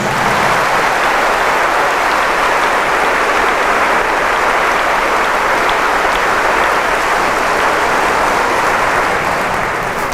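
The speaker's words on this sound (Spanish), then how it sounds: "¿Quién da un aplauso a Jesús?" Sustained crowd applause at a religious service, a dense steady roar of clapping from a large audience, loud and continuous the whole time.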